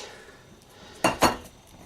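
A Fray Bentos steak pudding tin being turned out onto a plate, heard as two quick, close metallic clinks and scrapes against the plate in a quiet room.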